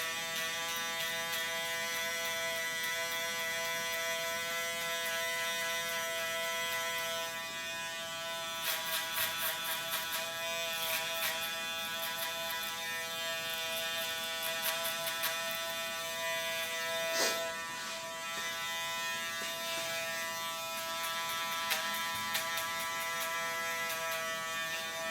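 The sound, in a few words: electric hair trimmer cutting a fade haircut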